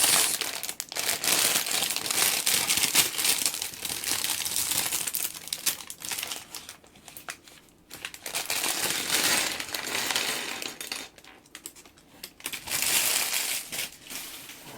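A plastic bag of larger LEGO bricks is handled and opened up close, with loud, continuous crinkling and crushing of the plastic and occasional small rattles from the bricks inside.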